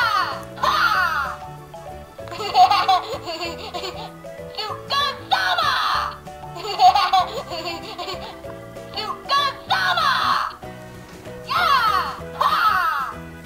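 A plush Lion Guard Bunga toy gives off recorded laughing and giggling sounds in several loud, bright bursts separated by short gaps.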